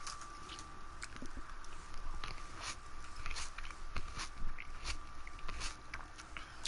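Close chewing and crunching of food by someone playing Madden 20, a steady run of soft wet bites and crunches right at the microphone, with game noise in the background.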